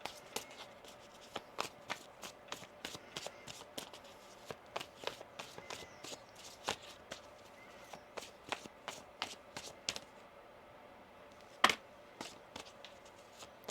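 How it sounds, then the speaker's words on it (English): Tarot cards are shuffled by hand in a quiet room, giving a rapid series of soft, crisp riffles and taps close to the microphone, with one sharper snap near the end. "One more shuffle here."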